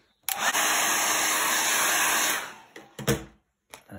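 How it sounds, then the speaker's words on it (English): A hair dryer roars loudly for about two seconds while drying paint, then cuts off, followed by a few short bursts of blowing. "let's give it the hairdryer treatment."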